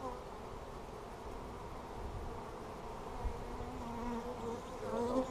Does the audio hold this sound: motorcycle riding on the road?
no